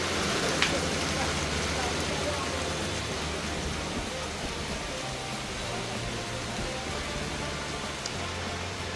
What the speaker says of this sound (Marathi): मस्त पाऊस मिळाला यार